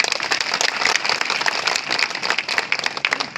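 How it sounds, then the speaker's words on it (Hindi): Loud, energetic applause from a crowd at a public gathering honoring members of a service committee, dense rapid clapping sustained evenly with sharp individual claps standing out. "हम चाहते हैं कि आप सबकी तरफ से एक जोरदार तालियां होनी चाहिए"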